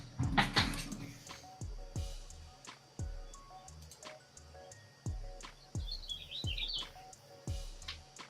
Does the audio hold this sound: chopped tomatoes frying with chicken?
no